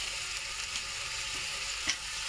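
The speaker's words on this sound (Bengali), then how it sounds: "মশলাটা ভালো করে কষিয়ে নিতে হবে" Turmeric, chilli, salt and ground onion, garlic and cumin paste stir-fried in a pan, a steady close sizzle with a faint scrape of the spoon near the end.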